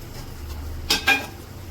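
Mutton being stirred in a cooking pot gives two quick metallic scrapes and clinks of a utensil against the pot, close and fairly loud against a quiet kitchen background.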